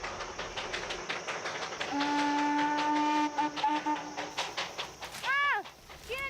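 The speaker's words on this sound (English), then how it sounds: "And the sounds of the train they brought echo up from the valleys." A steam train's whistle sounds in the Darjeeling hills, a long steady two-tone blast followed by a shorter sliding toot, over rumbling rail and ambient noise, ringing out across the valleys.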